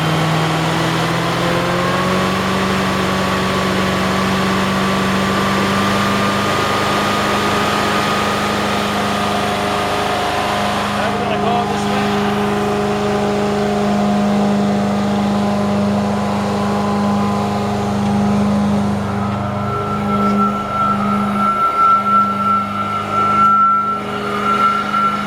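An Amtex 2545 stack machine's engine idles and then revs up, its pitch climbing in steps into a loud sustained whine before it settles, close and continuous.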